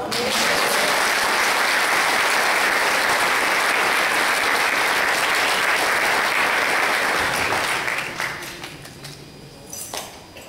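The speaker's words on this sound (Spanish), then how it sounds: "Vamos a dar un aplauso a Dios." A large crowd at a church congress applauds loudly and steadily for several seconds, then the clapping thins out and fades near the end.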